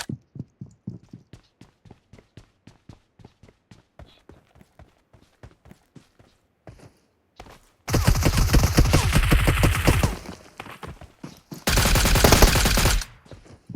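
Gunfire in the battle royale game BGMI: a long run of evenly spaced single shots gives way to two dense, loud bursts of continuous automatic fire, with no talk over it.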